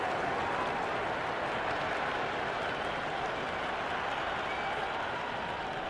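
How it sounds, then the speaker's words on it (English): Dense, steady stadium crowd roar from a Cricket 26 video game T20 match between Pakistan and Australia, a loud continuous wash of cheering and applause holding throughout with no break. "It's evident and ever so audible that the crowd is at near bursting point at today's play."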